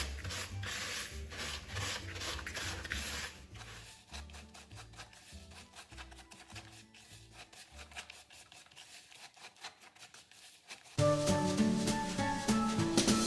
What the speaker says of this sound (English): start using your spatula to work the glucose into the bowl with the sugar